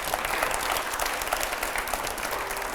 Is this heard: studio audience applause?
yes